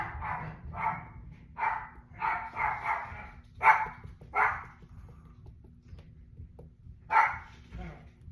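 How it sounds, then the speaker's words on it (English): A dog barks and yips repeatedly in short bursts, fairly close, pausing briefly before one more sharp bark near the end. "my dog is carrying on."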